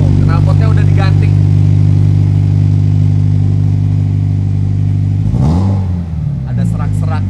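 Toyota 86 boxer engine with an aftermarket exhaust, already running at a steady loud idle with a strong low drone, then a brief blip of revs near the end before it settles again; voices talk over it.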